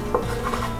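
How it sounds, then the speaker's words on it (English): A knife cuts tri tip beef into 2-inch cubes on a board, giving a few short, close chopping taps and soft scraping within a second. "now all we want to do is just cut these in like 2-inch cubes"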